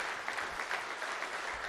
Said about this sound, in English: One more round of applause for our 2023 national champions,